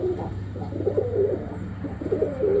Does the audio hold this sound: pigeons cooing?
yes